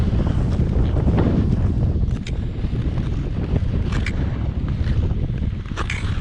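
Winter wind blows across the frozen Kennebecasis River in New Brunswick, a steady, loud rumbling gust buffeting the microphone for the whole stretch, with no one talking.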